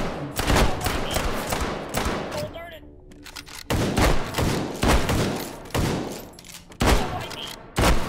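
A semi-auto shotgun loaded with flechette rounds fires in the VR game H3VR, loud, punchy blasts spaced about a second apart, with a short lull of mechanical handling noise midway.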